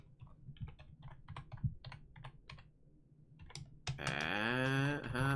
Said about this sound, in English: Oh, I didn't carry over, so I gotta type it in again.